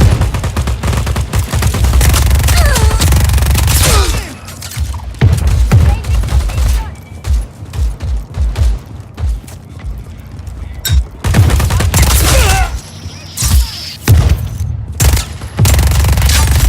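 Enemy gunfire in the video game Just Cause 4 comes as loud, dense bursts of automatic rifle fire and scattered single shots, with booms and short lulls, and voices shout now and then.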